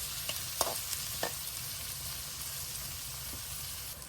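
Onions and spices frying in oil for a chicken curry, a fairly quiet, steady sizzle with a few sharp clicks of a utensil against the pan early on.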